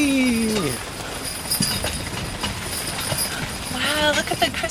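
A horse's hooves clip-clop steadily while pulling a carriage on a rainy Christmas ride, set back under constant wet road noise, with voices chatting over it.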